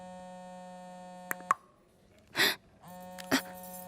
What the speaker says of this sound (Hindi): उसी का फोन है। फोन मत उठाना।